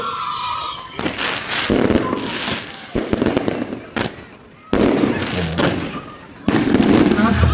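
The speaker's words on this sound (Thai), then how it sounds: "จุดพลุ" Rapid crackling bursts and booms of fireworks going off in clusters at a drone show at a temple in Chachoengsao, Thailand, loud and close, with a crowd's voices, cheering and applause mixed in.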